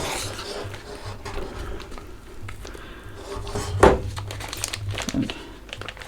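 A plastic Ziploc bag crinkles and rubs up close while being squeezed to pipe whipped tallow, with irregular crackles and one sharp louder crunch midway.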